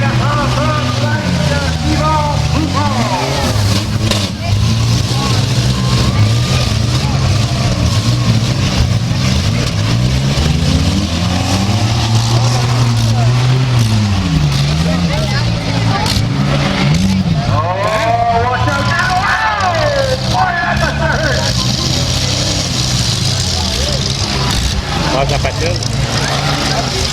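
Pickup trucks in a demolition derby in Ormstown roar and rev, their engines rising and falling in pitch through a dense, continuous mechanical din, while an announcer talks over the action.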